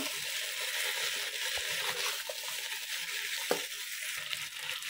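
Potatoes with turmeric are stirred in a pan, a steady close sizzle with faint scraping of the spoon.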